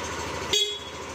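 A short horn toot from a new motorcycle, heard close by under steady background noise; the speaker notes it may later be swapped for a car-style horn.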